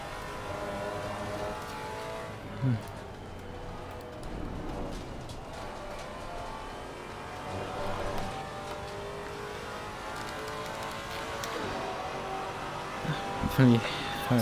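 A racing car engine in the video game Assetto Corsa Competizione revs and shifts gears continuously at high pitch at Watkins Glen, with a person talking over it throughout.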